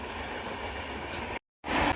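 Close by, a train rumbles on the rails at a crossing loop with a steady, heavy roll and faint wheel clatter. The sound cuts out abruptly for a moment, then returns louder.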